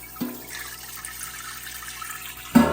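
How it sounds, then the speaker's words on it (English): Water pump running and spraying a fine mist, a steady hiss and trickle held throughout at moderate level, with a sharp clunk near the start and another at the end. "it's just doing a real fine little mist"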